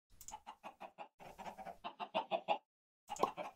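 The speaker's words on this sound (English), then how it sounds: "So I'm gonna have to breed my chickens in a pen." Chickens in a video game cluck in a quick rhythmic series of short, clear calls, close and fairly loud, pausing briefly before one last cluck.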